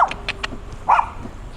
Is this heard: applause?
no